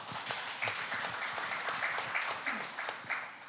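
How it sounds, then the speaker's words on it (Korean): A conference talk-show audience applauds to welcome the panelists, a dense, even wash of many hands clapping that holds steady for several seconds. "여러분 다시 한번 큰 박수로 환영 부탁드립니다."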